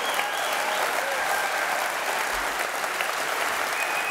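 A crowd at an AfD citizens' dialogue rally in Karlsruhe applauds steadily: a continuous, even wash of many clapping hands at moderate distance, sustained for the whole stretch without talk.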